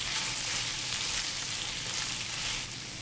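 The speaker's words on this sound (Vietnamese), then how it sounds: "Xào lên cho thơm." Pork belly stir-frying with shallots and garlic in a hot pan, a steady dense sizzle that holds loud and even for the whole stretch, easing slightly at the very end.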